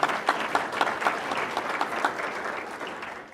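Steady audience applause at a housing and sustainability summit, a moderate spread of many hands clapping in a hall, even and continuous throughout.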